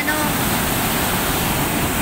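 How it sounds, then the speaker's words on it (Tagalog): Floodwater released from Angat Dam after a typhoon, a loud, continuous roaring rush of water, close and steady throughout with no break. "Sa kabila po, nagpakawala na ng tubig"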